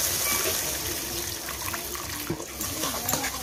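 Water poured from a vessel into a pan of Odia dry fish curry (sukhua ambula besara) being cooked with spices, a steady close splashing flow with some small clatters, heard alone throughout.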